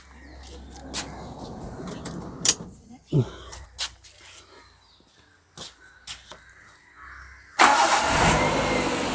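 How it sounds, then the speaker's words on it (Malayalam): A Maruti Zen MPFI car with a freshly restored engine: a few clicks and knocks, then the engine fires at once near the end into a loud, steady running roar, close by. "ഒറ്റയടിക്ക് തന്നെ വണ്ടി സ്റ്റാർട്ടായി"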